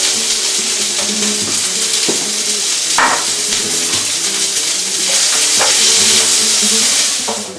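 Peppers and onions for a sofrito fry in oil in a paella pan, giving a loud, steady sizzle with occasional stirring clinks, heard close up and without talk.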